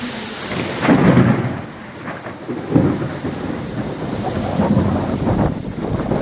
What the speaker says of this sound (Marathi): हे पहा आपल्या भागामध्ये भरपूर पाऊस पडत आहे